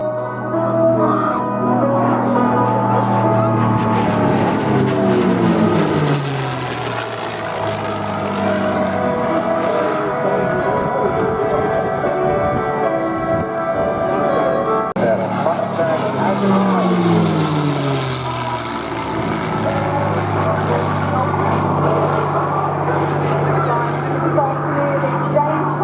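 A vintage RAF Mark 19 aircraft flies over an airshow, its engine drone rising and falling as it passes, holding steady and loud for the whole stretch while an announcer talks over it.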